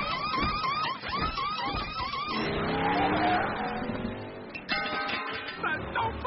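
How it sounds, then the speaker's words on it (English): Race cars in the animated movie Cars make a fast pit stop: engines whine and rev, tires screech, and air tools rattle, loud and busy throughout with no speech. "That was the fastest pit stop I've ever seen."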